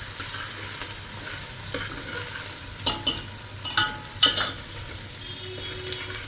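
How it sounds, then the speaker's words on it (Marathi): Chopped onions sauté in hot oil over a high flame for homemade chicken biryani, an even sizzling hiss with a few sharp scraping stir strokes near the middle. "हा मी कांदा परतून घेणार व्यवस्थित. हा चांगला लाल होईपर्यंत परतायचा."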